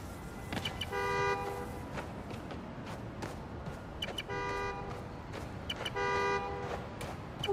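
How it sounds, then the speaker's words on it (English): In the video game Spider-Man: Miles Morales, a car horn triggered by a key fob honks three times in short, bright double toots amid street ambience and footsteps. "I love a good horn."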